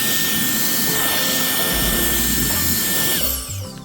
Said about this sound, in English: after wire brushing most of that crap off, I got this handheld blower